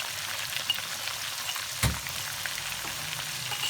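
Ground masala hits chicken frying in a pan, bringing a steady close sizzle with one sharp splatter pop partway through, no voices.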